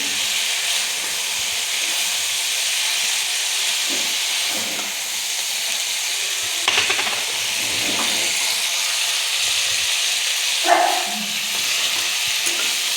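Green chillies, still wet from soaking in vinegar, sizzle loudly and continuously in a pan for a chilli pickle, with a constant steamy hiss and occasional stirring scrapes.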